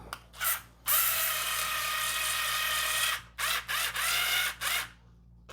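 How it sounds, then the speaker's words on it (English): A small cordless drill driving a screw into a 3D printer kit part whirs steadily for a couple of seconds, then several short bursts follow, close and moderately loud. "I'm going to switch up to my little skill drill."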